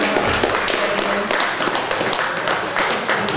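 An audience at a café show claps for Solena, dense close applause running throughout with a few voices mixed in.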